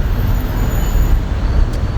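A 1993 Saab 900 Turbo-S 2.0-litre 16-valve with a race catalytic converter and new exhaust, cruising gently with a steady low exhaust rumble mixed with road noise.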